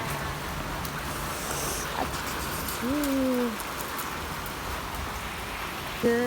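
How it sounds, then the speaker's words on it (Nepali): Hail pelts a vegetable garden in a steady, dense hiss of tiny impacts that barely changes, with a couple of short tonal calls rising briefly above it. "हेर्नुहोस् यहाँ असिना हेर्नु असिना असिना असिना"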